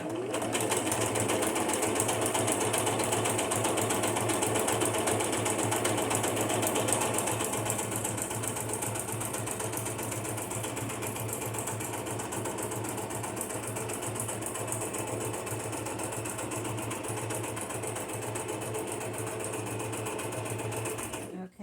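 A sewing machine stitches through paper for a junk journal, a steady close mechanical whir running continuously for about twenty seconds before stopping abruptly at the end.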